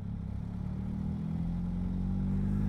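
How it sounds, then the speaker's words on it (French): A Suzuki B-King motorcycle engine hums low and steady at about 2000 rpm in sixth gear in town traffic, then rises gently as the bike pulls away, with a faint clatter underneath. "Je suis en 6ème à 2000 tours minute et la moto elle repart comme si de rien n'était."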